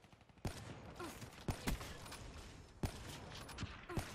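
Sharp gunshots ring out in Black Ops 3, a sniper rifle among them, with several separate cracks spaced a second or so apart over a quiet, muffled game backdrop.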